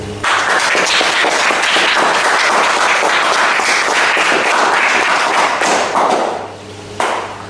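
Studio audience clapping to welcome a guest on a mythology-themed show: a dense, loud burst of applause lasting about six seconds, dipping briefly, then a short final flurry.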